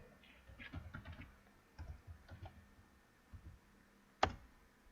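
Soft, close clicks of a computer keyboard as HTML code is typed, coming in short irregular bursts with pauses, ending in one sharper, louder key strike.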